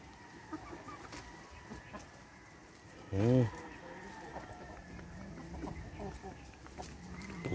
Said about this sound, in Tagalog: Yan ang aking mga alagang manok.